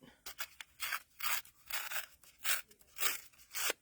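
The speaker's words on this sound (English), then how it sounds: "I'm going to take strips of our two-tone, and I'm going to tear it" Two-tone cardstock torn into strips by hand, a series of about eight short ripping bursts in an uneven rhythm, close and fairly quiet, with no talk.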